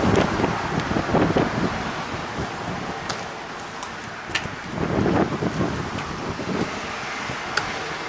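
Strong wind buffeting outdoors at a camp, a steady broadband roar with louder gusts and rumbling microphone buffeting throughout, no voices.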